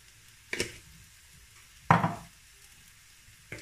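Chicken and vegetables with paprika and chopped parsley sizzle in a pan as a spoon stirs them, producing three sharp scraping bursts spaced apart over a soft, low frying hiss.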